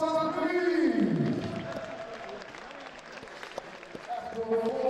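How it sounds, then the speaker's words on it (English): A boxing crowd at a live fight night at York Hall applauds, a diffuse clapping wash that stays moderate and partly buried under an amplified announcer's voice and a falling electronic tone. "let's have a big round of applause for Bantamweight, please."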